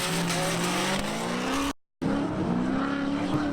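A BMW drift car with a turbo S54 engine screams at high revs alongside a supercharged LS2 S13 at a Formula D Pro-Am round, loud tire squeal and engine note running continuously, briefly cut to silence, then resuming.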